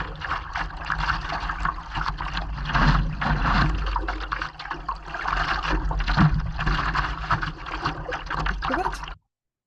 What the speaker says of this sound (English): And that's me just paddling.